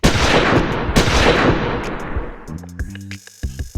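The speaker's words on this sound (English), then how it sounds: "Gans charges at Jack and eats what's left in Jack's gun" Gunfire in an action scene from the 1982 buddy-cop film 48 Hrs., with a dense roar of shots up front, a couple of sharp cracks, then the sound thinning into scattered echoing reports and tones near the end.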